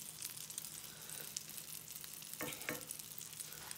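A veggie egg white omelette cooking in a pan, giving a steady soft sizzle throughout with a couple of brief louder crackles toward the end; no voices.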